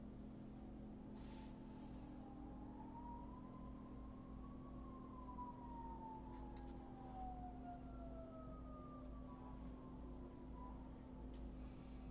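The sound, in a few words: sirens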